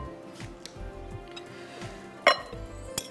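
Chicken pieces being added to a hot pan for Bohri chicken pulao, with soft sizzling, stirring scrapes, and a sharp metallic clink of utensil on pan near the end.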